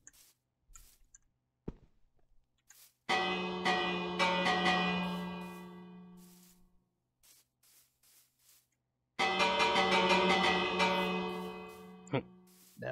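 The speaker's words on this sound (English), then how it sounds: "Bells." Bells ring out in Minecraft in two long bursts, each struck repeatedly with bright, sustained metallic tones that decay, separated by a quiet stretch with scattered small clicks.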